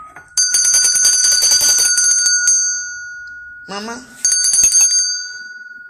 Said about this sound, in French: Ma cloche. Même ma cloche voyage.